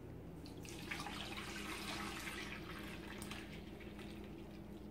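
Dissolved gelatin is poured from a container into a mold, a steady, soft liquid trickle and splash lasting several seconds, close and quiet with no talking.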